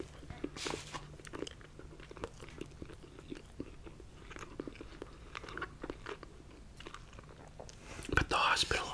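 Bites and chewing of a McDonald's Big Mac with bacon, close and quiet, with soft crunchy mouth sounds spread steadily through and a louder burst of crunching near the end.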